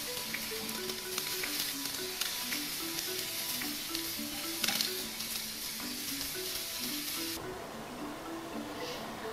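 Sausages sizzle on a Weber kettle barbecue with a steady, low hiss and crackle, while faint music plays underneath throughout.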